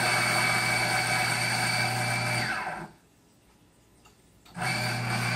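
Electric coffee grinder grinding beans, a loud steady whirring hum that cuts out for about a second and a half, then starts up again, close by with no talking.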